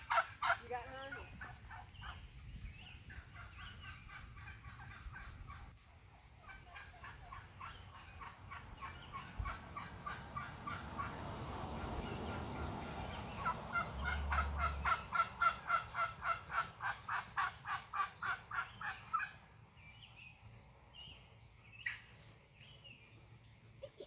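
Wild turkeys gobble repeatedly, with rapid rattling bursts rising toward the middle and fading, fairly close amid quiet outdoor background.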